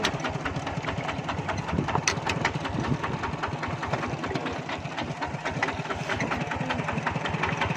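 Idling engine of an e-taek Lao-Thai farm vehicle, a steady close chugging and knocking rhythm that stays even throughout without any talk.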